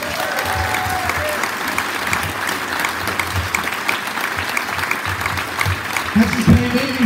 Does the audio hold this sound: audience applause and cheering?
yes